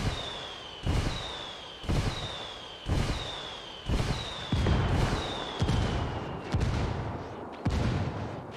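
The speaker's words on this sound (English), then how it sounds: "I'm calling for indirect fire." Indirect artillery fire in a video game, a series of about eight heavy explosions landing roughly once a second, each with a sharp boom and a whistling descending tone before it.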